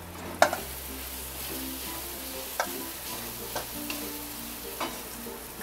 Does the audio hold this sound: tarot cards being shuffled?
no